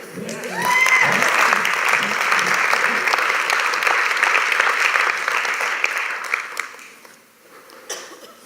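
A church congregation applauds and cheers during a sermon, a dense sustained burst of clapping with a few voices rising through it, fading out near the end.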